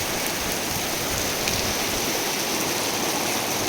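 Pea-sized hail falls steadily, a dense, even hiss of countless small impacts that runs without pause, near and loud throughout.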